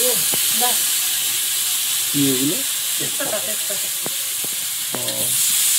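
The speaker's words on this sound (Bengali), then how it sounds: "ওলটা ভাজা হয়ে গেছে, এপাশে কড়াই ওপাশে দিয়ে দিলাম" Pieces of elephant foot yam frying in oil in a wok, a steady loud sizzle and hiss that runs throughout, with brief talk and a few clinks over it.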